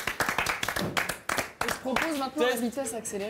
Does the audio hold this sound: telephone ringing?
no